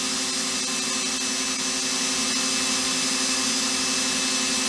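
A Simson moped piston is ground down across its whole surface, giving a loud, continuous, steady whine of a power tool with no pauses and no talk.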